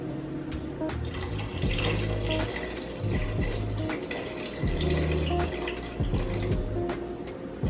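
Water poured from a container into a pot of gumbo with bouillon paste, two cups' worth, giving a steady splashing, running-water sound in several bursts with brief pauses, close and fairly loud, with no talking.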